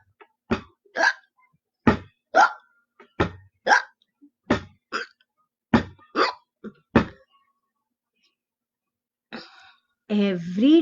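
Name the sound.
narrator imitating a duckling's hiccups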